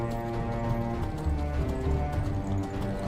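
Rapid galloping hoofbeats drum steadily throughout, with a horse's whinny rising over the pounding rhythm, from Skyrim.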